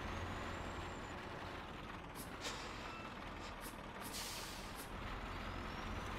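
Air brakes hiss on a Ford Cargo D1210 truck pulling over in Euro Truck Simulator 2, with several sharp bursts of hiss over a steady low engine rumble and no speech.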